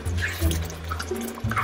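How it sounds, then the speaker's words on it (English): Water trickles slowly into a cooking pot while dough soup is being made, with soft splashing and dripping in short uneven bursts heard up close. "Okay, Marcus, now you can put the water in. Yeah, but slowly."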